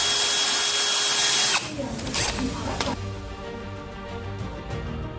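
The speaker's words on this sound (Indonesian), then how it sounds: "kelingannya kita bor" A power drill bores out the rivets holding the planetary gear cover on a single-tub washing machine gearbox, with a loud steady whine for about a second and a half, then quieter grinding bursts and clatter as the bit works through the metal.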